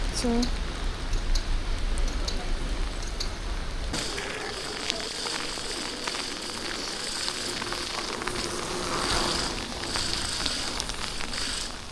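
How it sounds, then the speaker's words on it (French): Rain falls outdoors near the Noordwijk and Katwijk beaches in the Netherlands as a broad, continuous hiss with wind noise, recorded close while cycling, and a sudden shift in tone partway through. "il pleut à nouveau"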